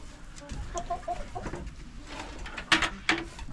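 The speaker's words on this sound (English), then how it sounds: "This breed's a Brahma." Brahma chickens in a farm coop after a thunderstorm, giving soft, scattered clucks and a couple of louder squawks near the end, close by with no talk.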